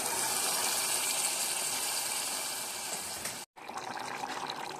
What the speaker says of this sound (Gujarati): થોડું પાણી પણ ઉમેરી દઈશું.